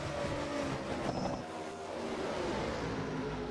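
Several stock cars racing around the Atlanta oval in a sim racing league, a steady dense engine roar with layered harmonic whines shifting in pitch, continuous and fairly loud.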